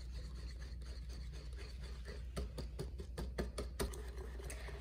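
A whisk mixing eggs into flour for crepe batter in a bowl, a faint steady scraping that turns into quicker rhythmic rubbing strokes toward the end, close and soft.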